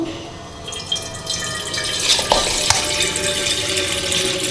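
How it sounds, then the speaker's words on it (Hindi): Tap water running into a large pot while mustard greens are washed for sarson da saag, a steady close hiss of flowing water with a few splashes and clinks partway through. "टैप के नीचे रखेंगे उसको।"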